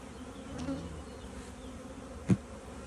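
Honeybees buzzing around an opened hive in spring, a quiet low hum of many bees with one brief louder pass close by near the end.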